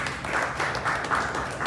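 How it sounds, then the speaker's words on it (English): Audience applause during a live music show, a short, steady patter of many hands clapping at moderate level, heard alone for under two seconds. "can we have a round of applause for everybody so far?"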